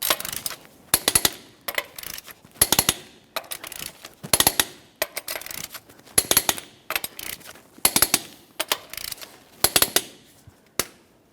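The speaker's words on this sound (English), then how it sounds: "we can continue on torquing each one of our 21mm lug nuts to 150 foot-pounds in a crisscross manner" Torque wrench working 21mm lug nuts on a 2004-2008 Ford F-150 wheel, sharp metallic ratcheting bursts repeating in short clustered groups with brief pauses between, close and dry.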